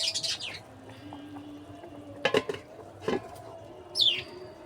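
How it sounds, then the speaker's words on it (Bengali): A lid set onto a cooking pot of olive curry gives two short clinks, close by and fairly soft, while birds chirp and tweet nearby before and after. "এখন আমি ঢাকনা দিয়ে দিব।"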